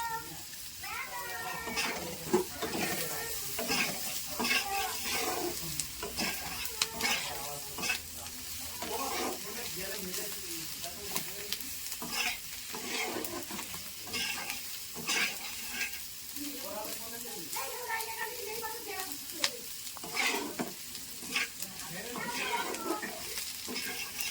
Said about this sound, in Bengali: মশলাগুলো এখন ভালো করে কষিয়ে নেওয়া হচ্ছে।